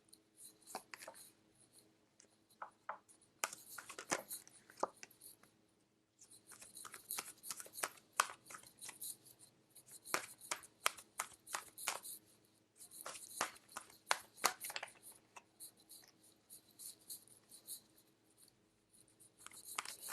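Tarot cards are shuffled and handled close by in soft, uneven bursts of riffling and sliding, quiet and continuous with short pauses.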